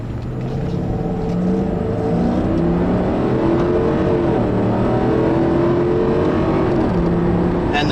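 A 2003 Lincoln LS V8 engine accelerating under load, a steady and fairly loud drone whose pitch climbs and settles through the gears, with no one speaking over it.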